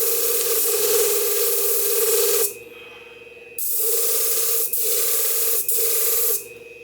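Sharpening the blade of vintage Vortex shears: a loud, steady grinding hiss in several long passes with short pauses between them, up close and with no speech.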